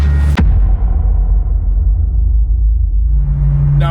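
A McLaren 720 supercar with a custom-built exhaust, heard very loud and close: a sharp crackle, then a deep, heavy rumbling idle that holds steady before another brief crackle at the end.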